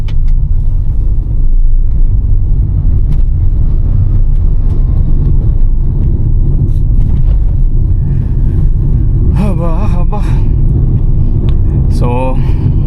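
A Bharat Benz lorry's engine rumbles on the road, a heavy continuous low drone close by and loud throughout, with brief voiced sounds breaking in toward the end.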